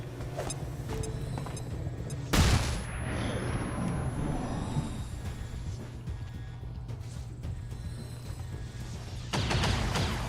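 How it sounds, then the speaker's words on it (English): A flashbang grenade in a video game goes off with one sharp loud burst, followed by a ringing, noisy tail and other game sounds, with a second burst near the end. "so I'm just gonna flashbang him"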